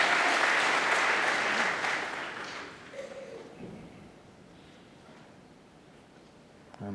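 A 2,000-strong Alexandra Palace crowd at a Masters snooker final applauds loudly, then the clapping fades away into a quiet hall with only faint scattered sounds.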